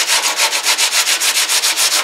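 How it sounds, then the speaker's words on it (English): Coarse 36-grit sandpaper scrubs across a car hood on a 1934 Ford coupe in steady back-and-forth strokes, roughly a dozen rhythmic rasping passes, close and loud with no voices. "I'm using 36 grit sandpaper here."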